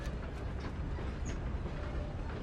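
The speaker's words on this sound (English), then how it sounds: "The train started moving" A train starting to move, a low continuous rumble with faint rail clatter and light metallic squeaks, steady and moderately quiet throughout.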